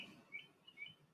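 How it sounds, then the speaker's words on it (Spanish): Birds singing outdoors in an ambient recording, faint distant chirps and short tweets scattered over a quiet background, with no talking. "antes de que empiece a hablar se escuchen bien el sonido de los pájaros"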